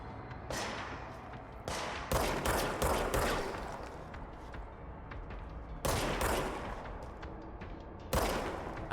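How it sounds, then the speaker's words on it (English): Enemies shooting back in the Control video game: repeated loud bursts of gunfire, several sharp volleys spaced over a few seconds, with no talking. "They shooting back?"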